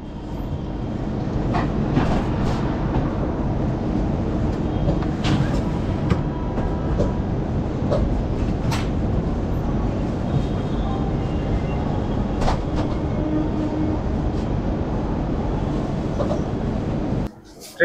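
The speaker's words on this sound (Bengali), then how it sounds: "ট্রেন ছেড়ে দিল হাওড়া স্টেশন।" The 12245 Howrah–Bengaluru Duronto Express pulls out of Howrah station: a steady, loud rumble of rolling rail cars with scattered clanks and squeals throughout, cutting off abruptly near the end.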